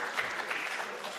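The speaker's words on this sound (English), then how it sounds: "Give him a round of applause," Brief, fairly quiet applause from an audience at an electricity colloquium, a steady wash of clapping hands in a large room with no clear voices over it.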